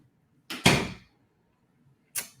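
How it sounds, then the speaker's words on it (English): A door swings shut nearby with a quick scrape and a solid thud, followed after a pause by a second, shorter knock-like impact in an otherwise quiet room. "Close that door on your way out."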